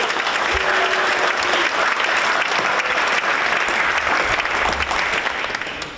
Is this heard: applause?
yes